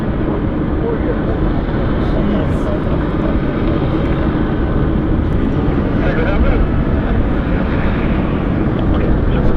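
A medevac aircraft at Vancouver Airport produces a continuous, fairly loud engine drone that holds steady throughout, with people talking over it.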